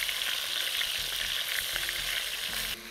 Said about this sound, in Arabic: وابتدي اقلب الفراخ، بس اديها لون